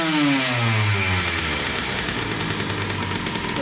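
A KTM motorcycle engine runs loud and close, its pitch sweeping downward after a rev before settling into a steady, slightly rough running note; the bike previously had a starter that would not work and was bogging.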